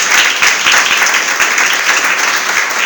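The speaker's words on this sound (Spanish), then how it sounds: "Dele otro aplauso al Señor." A church congregation claps together in sustained, dense applause, loud and close, filling the whole moment with no speech over it.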